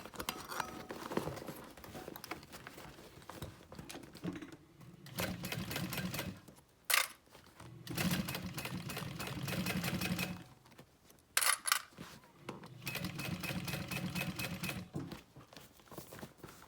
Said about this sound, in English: I'm going to do a back stitch over my D-ring